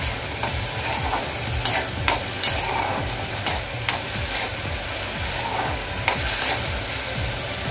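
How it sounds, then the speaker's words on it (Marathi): Tomato puree sautéing in a pan for dhaba-style mushroom masala, a continuous sizzle with repeated spoon scrapes and knocks against the pan, close and steady with no voices. "टोमॅटोचा कच्चेपणा जाईपर्यंत आपण हे परतून घ्यायचे।"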